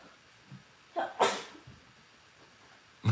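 A single sharp sneeze bursts out up close, preceded by a quick inhale and followed by quieter breathy sounds, with another short noise just at the end.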